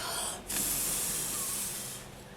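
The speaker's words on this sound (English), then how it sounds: "So just give it a good spray." A short burst of hissing spray from a spray bottle onto polymer clay pendants fires close by after a brief pause, holding steady before fading out.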